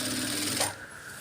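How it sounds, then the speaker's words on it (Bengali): A sewing machine stitches along the placket of a jubba in a steady, loud, close-up whir that cuts off abruptly about halfway through the short burst. "এভাবে লবে লবে একবারে সুন্দর করে সেলাই দিয়ে যাবো"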